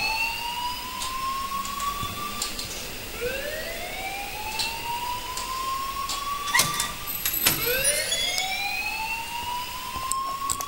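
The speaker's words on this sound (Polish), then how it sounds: "please turn off that alarm since that's your job" Wailing alarm siren in the Life is Strange video game, rising sweeps repeating about every two to three seconds, loud and steady with no talk over it.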